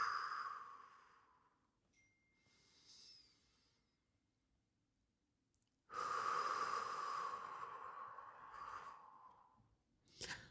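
Slow, audible breaths during an intermediate Pilates glute workout: a faint exhale fades out, then after a quiet pause a strong, close, airy breath rushes out for several seconds, followed by a short breath at the end.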